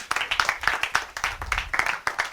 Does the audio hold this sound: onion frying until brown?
no